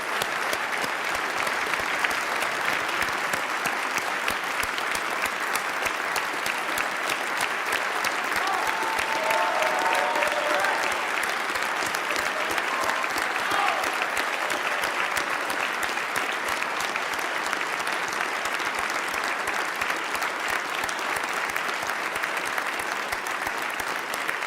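Sustained applause from an audience welcoming guests at the State House, steady and dense throughout with a faint murmur of voices underneath.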